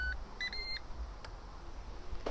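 Ninja air fryer beeping as its start button is pressed, a few short electronic tones near the start with a faint click later, set against low room hum.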